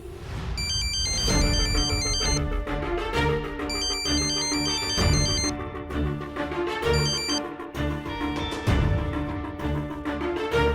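A melodic electronic ringtone plays loudly and continuously, its bright chiming tune repeating over a full backing without any voices.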